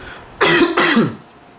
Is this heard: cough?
yes